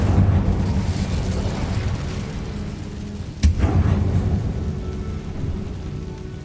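An Incendio fire spell in Hogwarts Legacy roars as a broad, rushing blaze with a sudden sharp burst midway, followed by a fading crackling roar.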